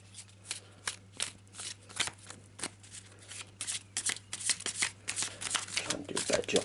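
A deck of cards shuffled by hand at a tabletop game, a series of quick riffling bursts and slaps in uneven rhythm, close and crisp over a low steady hum.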